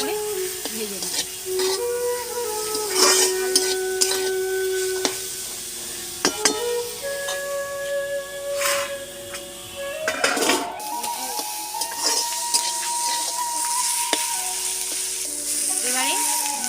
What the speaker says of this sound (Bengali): হলুদ গুঁড়ো, অল্প নুন দিয়ে বাঁধাকপিটা আমি লাল লাল করে ভেজে নেব।